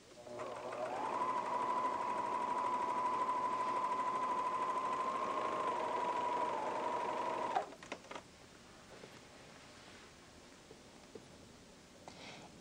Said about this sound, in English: Lower the presser foot and continue sewing the remaining corners in the same manner.